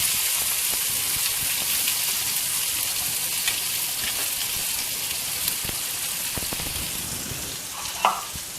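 Small shallots frying in oil with mustard seeds and urad dal, a steady close sizzle and crackle running throughout with a brief sharper pop near the end.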